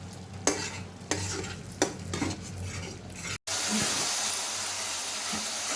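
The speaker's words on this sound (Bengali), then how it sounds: "মশলাটা কষা হচ্ছে দেখুন এই যে তেল ছেড়ে গেছে একদম" Spice paste sautés in oil, giving a continuous close sizzle broken by several sharp scraping stirs of a spoon against the pan, then a denser, louder hiss after a brief gap.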